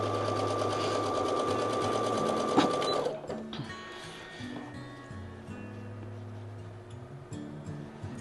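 A sewing machine stitches fabric pieces together with a scant quarter-inch seam, running steadily and loudly for about three seconds before it stops, leaving quieter handling noises behind.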